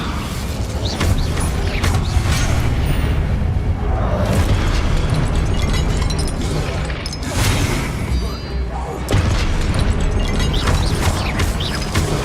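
In the game Hogwarts Legacy, spell casts set off repeated booming explosions and mechanical crashes over busy, continuous game effects.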